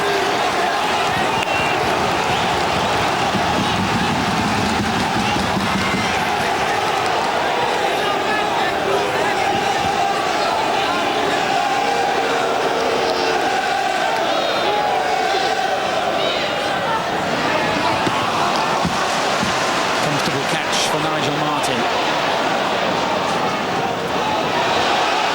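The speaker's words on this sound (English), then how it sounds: "the crowd acting as 12 man there" Football crowd at Leeds United v Liverpool in the FA Cup fourth round, a dense continuous roar of a packed stadium that runs for the whole stretch under a commentator's voice.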